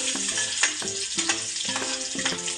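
Green chillies frying in two spoons of hot oil while vegetable cutlets are prepared, a close, steady sizzle with a faint rhythmic pattern of stirring beneath it.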